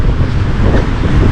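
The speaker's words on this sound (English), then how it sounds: "these waves coming in" Storm waves, at least 2 meters high, rolling in on the Gozo coast, heard as a dense, continuous roar of surf mixed with heavy wind buffeting the microphone, loud and unbroken throughout.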